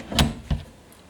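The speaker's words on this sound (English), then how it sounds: "I'm going to close that door." An airing cupboard door being shut, giving two quick close knocks about a third of a second apart, fairly soft and near, then quiet.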